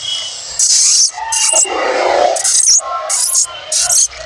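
A man vocally imitates the cries of a baby monkey, producing loud, shrill, repeated squeals in short bursts with brief pauses, close to the listener.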